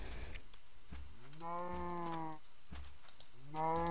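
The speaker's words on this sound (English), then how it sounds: "I will kill these cows." Blocky cows in Minecraft give two drawn-out, wavering moos a moment apart, with faint keyboard typing clicking underneath.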